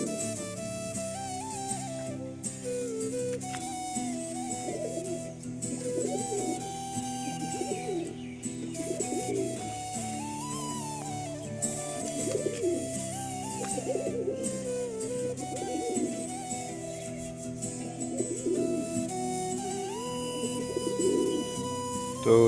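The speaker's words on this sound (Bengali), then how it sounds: "এই যে সবকটা পায়রা আস্তে আস্তে বাইরে আসছে।" Green Madras pigeons leave their loft, cooing continuously in soft rolling phrases, several birds overlapping at close range for the whole stretch.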